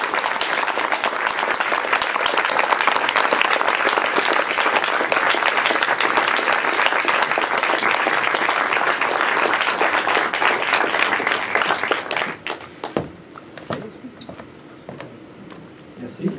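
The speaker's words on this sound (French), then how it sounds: "je vous invite à applaudir chaleureusement Yves Simoneau" Festival audience at a Fantasia 2015 screening applauds warmly for director Yves Simoneau, a loud, sustained wall of clapping that fades out after about twelve seconds, followed by a quieter room with scattered sounds.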